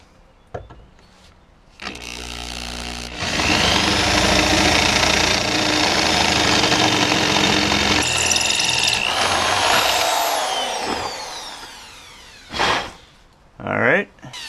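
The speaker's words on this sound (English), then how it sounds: "let's see if we can get a 5/16 through there" A power drill with a 5/16 bit bores through a car mount, its motor whining loud and steady for several seconds before slowing and stopping, with short bursts of revving near the end.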